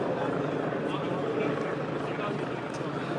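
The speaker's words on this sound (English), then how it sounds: "that noise you can hear is still the helicopter that's flying above" A steady, low rumbling drone of a police helicopter overhead fills the clip continuously, moderately loud with no clear voices.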